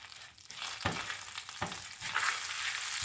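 Brown sugar being stirred into melted butter in a skillet, a steady soft sizzle with a few scraping strokes of the spoon at irregular intervals, close and alone.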